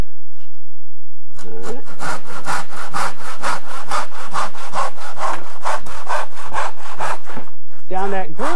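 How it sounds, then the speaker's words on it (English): A hand saw crosscuts a board in a traditional hand-tool woodworking shop, giving a quick, even rhythm of close, loud rasping push-and-pull strokes that start after a brief pause and run steadily to the end. "And now your final thing is to saw across."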